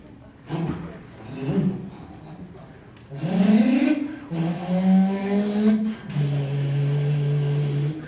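A man imitates a car with his voice, giving a few short revving bursts and then long rising and steady engine-like drones, close and clear in a meeting room.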